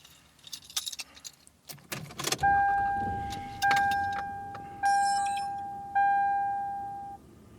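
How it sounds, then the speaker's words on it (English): A car starts up with keys jangling and rustling at first, followed by four loud chime tones spaced about a second apart that ring and fade. "let's go ahead and get started by turning on the car."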